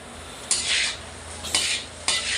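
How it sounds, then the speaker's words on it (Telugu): Egg fried rice tossed and mixed in a pan: three separate bursts of scraping, rustling stir noise at a steady pace over a low kitchen hum, with no voices. "ఇలా ఎంత ఎక్కువ టాస్ చేసి ఇట్లా కలుపుతూనే ఉండాలి"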